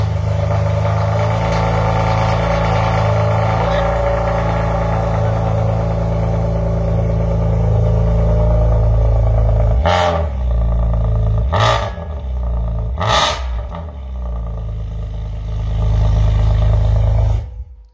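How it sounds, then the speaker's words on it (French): Alfa Romeo 147 GTAm engine cranking and starting, with a loud steady idle rumble and three sharp clacking bursts near the end, close and alone without talk. "Le claquement au démarrage"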